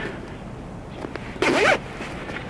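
A Nomad hunting coat being zipped up, one quick, loud zipper pull lasting about a third of a second, close to the microphone, with some soft rustling of fabric before it.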